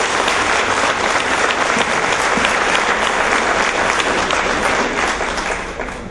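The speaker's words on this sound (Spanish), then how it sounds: "un aplauso para nuestro secretario general recién electo" A crowd gives sustained, loud applause for a newly elected secretary general, Mario Almirón, with the clapping full and even throughout before easing slightly at the close.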